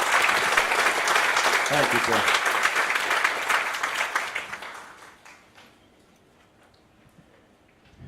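An audience at an annual meeting breaks into sustained, dense applause that gradually thins and fades, and a voice then speaks briefly over the last scattered claps.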